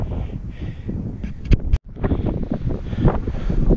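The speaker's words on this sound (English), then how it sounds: "It's extremely, extremely windy, as you can see." Strong wind buffets the microphone at the Pinkuylluna ruins above the Sacred Valley in Peru, a steady roaring rush with gusts and a brief dropout midway, no talking.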